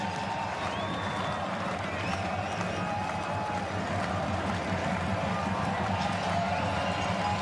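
A CFL stadium crowd at an Ottawa Redblacks versus BC Lions football game keeps up a steady, distant roar and murmur of cheering, a continuous wash of sound beneath faint commentary.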